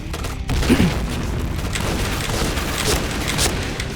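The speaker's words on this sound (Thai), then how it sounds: "ปาระเบิดแบบนี้" Grenade blasts go off in a PointBlank first-person shooter match, with a deep boom near the start and then a rumbling wash of explosion and gunfire noise that runs loud and dense throughout.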